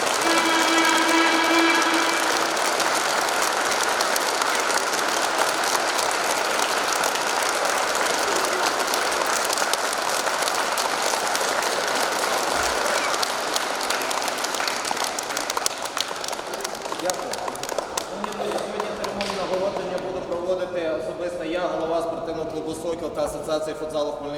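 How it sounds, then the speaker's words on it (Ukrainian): Loud applause fills a hall at an award ceremony for a youth futsal festival, a dense, sustained clapping that runs for most of the stretch before thinning out near the end as music or voices emerge. "Давайте гучними оплесками згадати."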